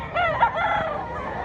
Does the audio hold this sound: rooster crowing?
yes